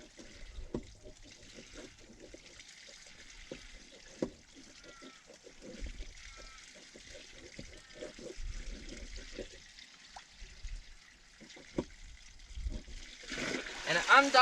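Water draining out of an old sheep trough in Australian sheep yards once the plug is pulled, a steady low trickle and splatter with a few louder gurgles, with voices faintly in the background.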